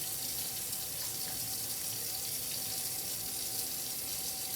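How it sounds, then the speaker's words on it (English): Steady stream of water running from a tap into a sink during handwashing, a constant close hiss with no pauses or voices. "Okay, next you wash your hands"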